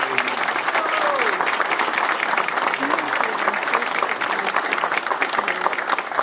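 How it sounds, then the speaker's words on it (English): Audience applause at a county college grand opening, a dense, steady burst of clapping from a large crowd that holds at full strength for several seconds. "and he deserves a tremendous round of applause."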